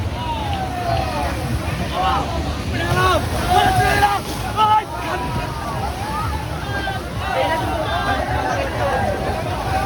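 A speed boat ride on the water at Dream Valley Water Kingdom in Jhenaidah: a steady roar of engine, wind and splashing water runs throughout, with faint voices carried in the wind.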